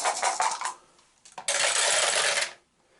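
Dice for the Arkham Horror board game clattering: a short rattling burst, a brief pause with a few ticks, then a second sustained, bright, loud rattle as they tumble and settle.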